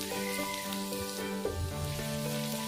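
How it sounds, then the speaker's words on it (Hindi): Grated garlic and ginger sizzle steadily in a hot pan for pav bhaji, a soft continuous crackle with faint stirring clinks. "अदरक और लहसुन को हम आधे मिनट के लिए पकाएंगे"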